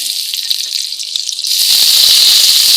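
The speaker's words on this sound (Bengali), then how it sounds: "তারপরে দিয়ে দেবো পেঁয়াজ কুচি।" Chopped onions dropped into hot oil in a kadai for a rui fish curry, a crackling spatter that suddenly swells into a loud, continuous hiss and sizzle up close.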